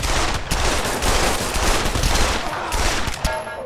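Rapid automatic gunfire in the VR shooter Pavlov VR during a gun game match, loud continuous bursts of close shots with brief gaps, no voices over it.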